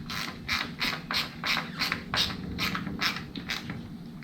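A screw is tightened by hand into a plastic part on a 2014 Acadia 3.6L engine, a close rhythmic ratcheting click repeating about every half second, steady and alone.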